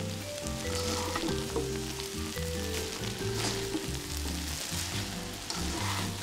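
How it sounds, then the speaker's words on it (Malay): Rice vermicelli and chives fry in a pan, a steady close sizzle with scraping, stirring knocks from the utensil throughout, no speech. "Kacau sampai kucai agak layu dan bihun masak lembut."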